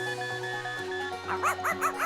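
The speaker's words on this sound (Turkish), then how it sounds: "Bu bir köpek." A small dog gives a quick series of about five short yips or barks near the end, heard over steady background music.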